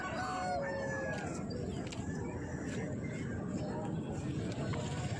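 A desi rooster crows at the Balibhasa hat poultry market in Jhargram, West Bengal, its drawn-out call rising early over a dense market hubbub of voices and clucking fowl.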